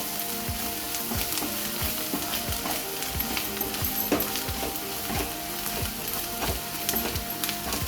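Hing, turmeric and Malvani masala being stirred into spring onions frying in a pan, giving a steady close sizzle with repeated scraping strokes of a spoon throughout.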